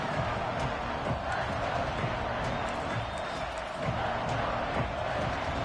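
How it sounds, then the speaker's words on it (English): Stadium crowd noise from a College Football 26 video game during a third-down play, a steady dense roar with scattered cheers running throughout at moderate level. "Third down and the crowd really getting into it."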